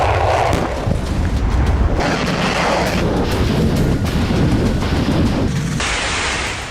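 A Russian Kinzhal missile strike on Ukraine booms loudly, with a sustained roaring blast and rumbling debris noise that fills the scene and shifts through several heavy surges.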